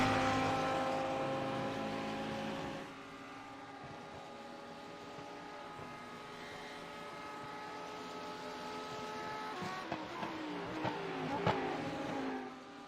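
Lamborghini Super Trofeo race cars lap the Autodromo Jose Carlos Pace circuit in qualifying, a steady layered engine drone that holds throughout, with louder, shifting revs as cars pass closer near the end.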